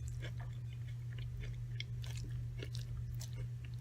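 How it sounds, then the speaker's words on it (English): Crunchy chewing of raw curly green kale with mung bean sprouts, close and crisp bites repeating irregularly against a steady low hum. "I just love that crunch."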